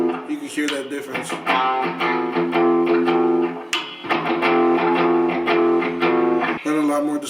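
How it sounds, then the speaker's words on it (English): A custom epoxy river electric guitar with split humbucker pickups plays through heavy distortion, sustained chords ringing out in loud repeated strums with a brief break midway. "And a lot more distortion now."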